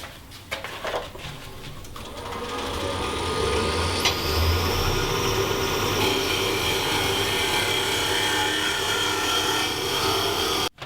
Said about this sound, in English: I've had the dust collector on